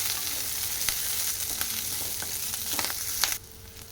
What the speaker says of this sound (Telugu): రెండు ఎండుమిర్చి ముక్కలు ఇలా కొద్దిగా ఫ్రై అయిన తర్వాత తీసేసుకోవాలి